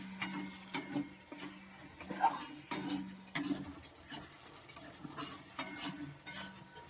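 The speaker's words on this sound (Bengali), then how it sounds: "মশলাটা একটু ভালো করে কষিয়ে নেব।" Spice paste of cumin and coriander powder, salt, sugar and water being stirred and fried in a pan for a catla fish curry: steady scraping strokes of a spoon against the pan over a soft sizzle, close and without talk.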